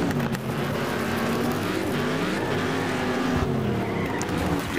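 A race car in Next Car Game on the Sandpit Circuit skids with a sustained tire squeal over a steady droning engine, with sliding whines rising and falling as it loses grip under late braking.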